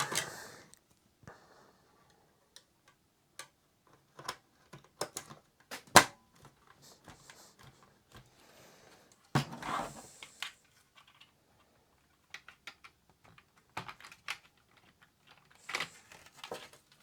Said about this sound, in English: Keyboard feels nice, no stuck keys or anything.